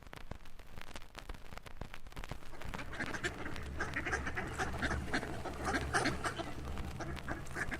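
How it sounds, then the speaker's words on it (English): Ducks quack in a busy garden where chickens also roam, a steady run of overlapping calls that grows denser and louder partway through, with rustling and other farmyard noise underneath. "Ducks and chickens roam freely among vibrant flowers and fragrant herbs"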